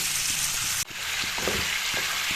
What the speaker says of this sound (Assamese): মাংসখিনি ইফালৰ পৰা লৰাই যাম অলপ কৰি